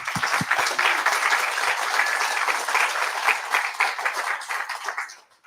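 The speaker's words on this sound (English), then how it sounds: "big round of applause for Martin" A meetup audience gives a round of applause for Martin, a lively burst of many hands clapping close and loud, with a few distinct claps at the start and a quick fade at the end.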